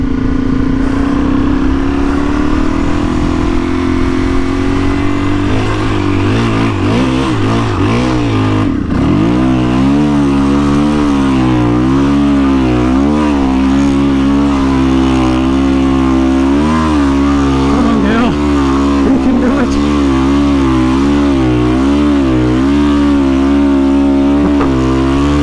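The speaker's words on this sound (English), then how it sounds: "Revving the tits out." A Suzuki DR-Z400E motorcycle engine idles loudly up close on a Fraser Island track, then revs repeatedly in rising and falling surges that continue, sustained and throaty, without any voices.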